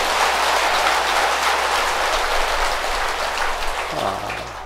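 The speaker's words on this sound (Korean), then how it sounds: "박수 한번 더 쳐주십시오." Congregation applause during a Buddhist temple service, a loud, continuous wash of clapping from a large crowd, dense and even throughout, easing slightly at the end.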